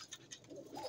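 Pigeons coo during a morning feeding at a fancier's loft, with soft repeated coos and light bird calls close by over a faint background, no talking.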